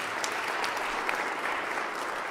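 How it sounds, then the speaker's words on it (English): An audience at a spring choir concert claps steadily, a dense, even wash of applause heard from a moderate distance with no voices over it. "So I think I made you clap enough."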